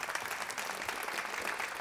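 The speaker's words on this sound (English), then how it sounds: "Please give it up a big hands of applause to the CEO of the Predator Group." An audience claps for the CEO of the Predator Group at a Predator WPA World 10-Ball event, a steady, moderately loud patter of hands filling the space without talk.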